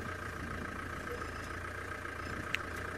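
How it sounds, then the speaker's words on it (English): A safari vehicle's engine idling at a steady low rumble outdoors, constant and unbroken, with a faint sharp knock right at the end. "I'm still keeping a bit of distance from her so that she can listen over the sound of the engine"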